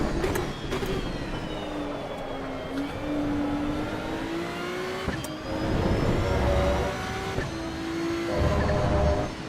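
A Ferrari 296 engine in Assetto Corsa EVO hums at a steady, moderate level, its tone gently rising and falling as the revs shift, with a few faint clicks and no speech.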